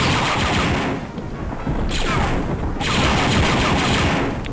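Turret gunfire in the first-person shooter Dark Forces on the Mt Kurek level, a loud, dense and continuous barrage of blasts with rumbling booms, close and filling the whole stretch.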